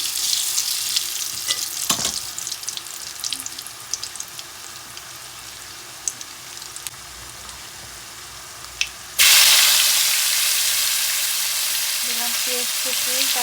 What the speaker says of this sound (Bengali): এখন দিয়ে দেবো কালি জিরে ফোড়ন